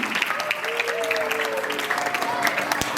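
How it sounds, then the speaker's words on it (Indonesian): Audience applause after a grade 1 end-of-year school performance: lively, continuous clapping from a crowd, loud and even across the whole stretch, with faint voices underneath. "mari kita berikan tepuk tangan yang paling meriah untuk penampilan hari ini."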